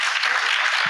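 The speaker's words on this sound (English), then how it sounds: "a generous round of applause for Tavis Smiley" A studio audience breaks into a dense, steady round of applause for guests Tavis Smiley and Ian Rowe at a discussion event, the clapping loud and continuous throughout the brief moment with no voices over it.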